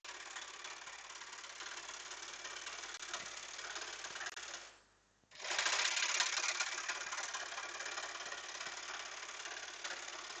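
A serger overlock machine stitching trouser fabric makes a loud, fast, steady mechanical whir that stops briefly in the middle, then restarts and runs on at full speed.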